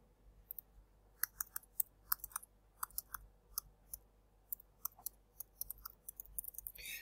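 Typing on a computer keyboard while entering a URL: quiet, irregular clicking keystrokes in quick clusters across a near-silent background, with a brief faster burst at the end.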